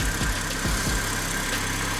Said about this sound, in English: Engine sounds normal.